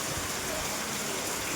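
Steady afternoon rain pours down over farm fields with a dense, even hiss, continuous and close for the whole stretch with no pauses.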